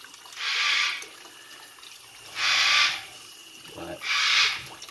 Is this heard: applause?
no